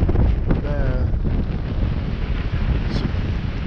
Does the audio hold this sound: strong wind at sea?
yes